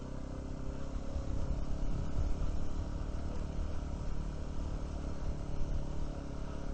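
An off-road vehicle engine runs at full throttle on a high-altitude trail, a steady, droning mid-pitched roar with rattling clatter, continuous and fairly close with no talk.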